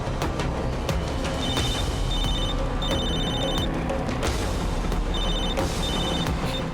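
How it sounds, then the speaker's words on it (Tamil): Telephone bell ringing repeatedly and going unanswered in a Tamil television drama scene, the electronic rings coming in short repeated bursts over a busy background of music and room sound. "ஏன் யாரும் போன் எடுக்க மாட்டேங்கிறாங்க?"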